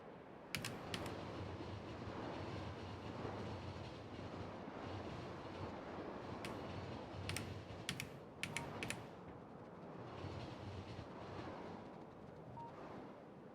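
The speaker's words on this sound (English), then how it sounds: "It's just a fuel train." A fuel train running in Factorio with Pyanodon's mod, a faint steady rumble with a few sharp clicking bursts scattered through.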